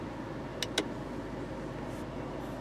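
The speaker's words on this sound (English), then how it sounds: "I'm going to release the parking brake here" The parking brake of a 2015 VW MK7 Golf R, USA version, releases inside the quiet cabin with two quick, crisp clicks close together, then only faint low background hum.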